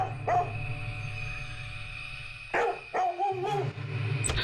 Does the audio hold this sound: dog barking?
yes